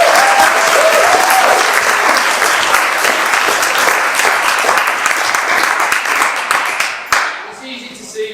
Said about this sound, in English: I'd like to start this speech with a huge round of applause for Ian, Joanne, Martin and Stella, and of course Joe and Laura, the bride and groom